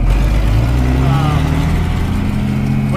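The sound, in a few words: loud tractor engine running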